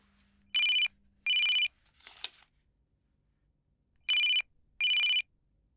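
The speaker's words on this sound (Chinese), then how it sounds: "怎么不接电话呀？" A telephone rings in two pairs of short electronic trills, separated by a quiet gap with a brief rustle, in an indoor drama scene.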